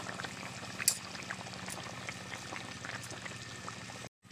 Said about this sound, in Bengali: একটু সামান্য ফুটিয়ে নেবো